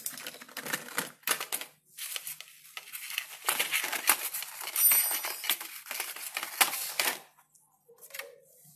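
Unpacking a bicycle speedometer kit, with plastic bags and paper crinkling and parts rattling in quick, busy bursts, loud and close, easing off near the end.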